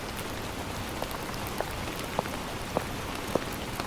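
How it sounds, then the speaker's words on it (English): Rainstorm sound effect of rain pelting down, a dense continuous patter with a few sharper individual drips or splats standing out at irregular intervals over the steady wash. "The rain pelted down relentlessly, the wind howling through the corridors."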